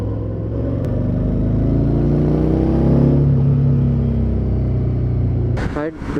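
A Harley-Davidson Street 750 motorcycle rumbles along while being ridden, its exhaust drone steady and close with a gentle rise and dip in revs, and a brief rustle near the end.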